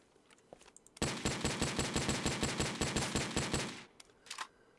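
Rapid automatic gunfire from the shooter video game Into the War: a close, loud burst of evenly spaced shots lasting about three seconds, with quieter clicks before and after.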